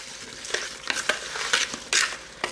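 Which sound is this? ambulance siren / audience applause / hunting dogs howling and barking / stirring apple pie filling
stirring apple pie filling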